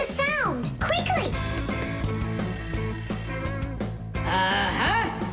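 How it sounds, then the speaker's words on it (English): Cartoon alarm ringing in an animated children's show about the Fixies, with bright, rapidly warbling bell tones and sweeping musical chirps that come in bursts over a bed of background music. "Simka, I think I can hear my alarm ringing."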